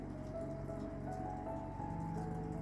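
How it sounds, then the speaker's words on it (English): Steady rain falling, a soft continuous patter blending with a low background hum, with no voices. "the precipitation is starting to come down."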